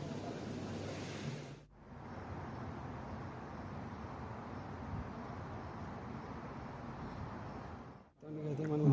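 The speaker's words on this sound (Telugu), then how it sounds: "అక్కడ వచ్చేసి నీళ్ళు వాటర్ ఫాల్స్ టైప్లో ఉంటుంది చూడండి" Water pours steadily down a waterfall-style fountain inside 360 Mall, a broad continuous rushing wash with brief dips where the recording cuts, and faint voices at the end.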